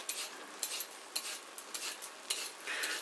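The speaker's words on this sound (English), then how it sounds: "But peeling our carrots." Carrots being peeled for chicken soup make quick, repeated dry scraping strokes at close range, roughly a dozen light rasps in irregular rhythm over faint background hiss.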